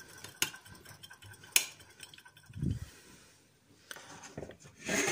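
A utensil clinks and scrapes against a bowl while an egg yolk is mixed with a spoonful of milk for brioche glaze. The taps are quiet and irregular, with a soft clatter near the end.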